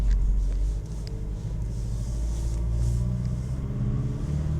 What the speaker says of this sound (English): And now we're going to go back up the hill in low range.